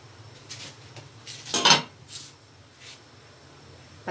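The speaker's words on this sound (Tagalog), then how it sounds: "Tataktan natin yung kaserola." A metal lid clanks onto a cooking pot (kaserola) being set to boil water, one sharp clatter with a few lighter metallic knocks around it, close and distinct.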